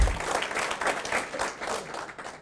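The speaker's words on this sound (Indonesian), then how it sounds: "Aplaus dulu dong untuk produk kita Bapak Ibu." An audience at a TIENS sales presentation claps steadily for a few seconds, a dense, even patter of many hands that stays fairly loud throughout.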